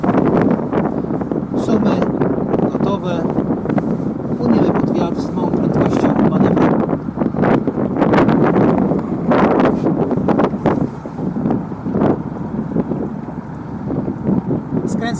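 Strong wind buffets a sailboat maneuvering toward a mooring in Czerniakowski Port, a constant loud roar and rustle of gusts over the microphone that masks other sound.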